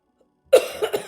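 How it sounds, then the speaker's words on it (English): A person with a cold coughs a few times in quick succession after a moment of silence, close and fairly loud, with a harsh throaty burst followed by two smaller coughs. "Probably the last time you guys are going to hear me coughing through this broadcast."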